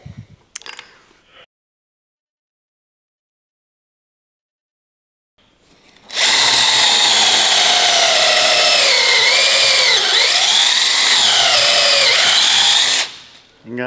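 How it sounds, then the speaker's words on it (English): A power drill bores a hole in a part during an old grinder restoration, running loud and steady for about seven seconds after a brief bit of handling noise and a silent pause. "Drill that hole."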